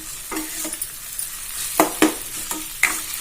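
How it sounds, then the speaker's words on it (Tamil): Cooked rice being stirred into a raw mango mixture in a pan, with soft sizzling under repeated scraping and clinking spoon strokes, close with no speech. "அதுக்கப்புறம் சாதத்தை குட்டி கிளறி"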